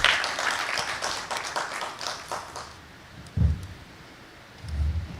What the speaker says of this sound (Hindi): उनके लिए एक बार ज़ोरदार तालियां बजाइए।